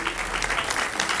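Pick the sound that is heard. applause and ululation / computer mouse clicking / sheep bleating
applause and ululation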